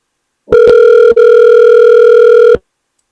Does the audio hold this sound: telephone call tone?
yes